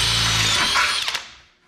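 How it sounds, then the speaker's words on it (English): Power drill boring holes, likely through wood, a loud steady whine that runs for about a second before winding down and trailing off near the end. "So I'm going to drill the holes in this first"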